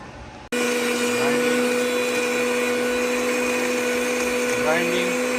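A kitchen blender grinds garlic cloves, green chilies and basil leaves into a marinade: after a brief quiet start the motor kicks on abruptly into a loud, steady whirring drone that runs unbroken to the end.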